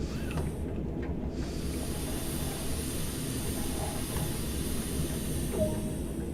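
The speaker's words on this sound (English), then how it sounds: "Now we'll bring the train brake down to running." Air brake of a train in Train Sim World on the Tees Valley Line, a steady broad hiss with low rumbling cab noise continuing throughout, briefly dipping near the start.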